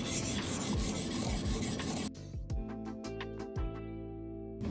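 A bulat (damascus) steel knife is sharpened on a fine whetstone, working along the burr. Dense, rasping strokes run for about two seconds, then lighter, separate scrapes follow.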